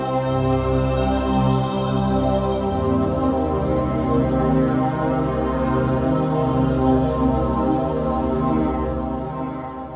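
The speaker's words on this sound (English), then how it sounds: "use two very simple patches of Bend Me Texture and AirTex padded strings." Soft sustained chords from the M-Tron Pro IV, layering Bend Me Texture with AirTex padded strings, a smooth atmospheric string pad held continuously for ten seconds at moderate level, alone without speech, easing slightly at the end.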